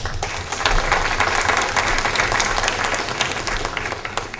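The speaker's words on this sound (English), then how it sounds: "probably deserves a big round of applause" An audience at a city mayor's public evening meeting breaks into loud, sustained applause, with many hands clapping densely up close for several seconds.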